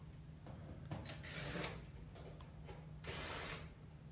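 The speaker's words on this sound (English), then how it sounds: "go behind the range and take off the back cover by removing all the screws around the perimeter" Screws being backed out of the metal back cover of a kitchen stove range, giving brief ratcheting, clicking mechanical bursts at a steady pace over a low electrical hum, close by with no talking.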